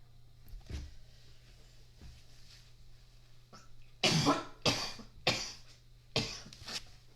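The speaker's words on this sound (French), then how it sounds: "Excuse-moi, je suis en train de tousser" A person coughs several times in quick, loud bursts close by, after a quieter stretch with faint throat sounds.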